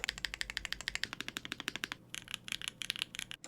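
Rapid, crisp clacks from a Tofu mechanical keyboard being typed on, close and fairly quiet, in steady quick runs with a brief pause near the middle.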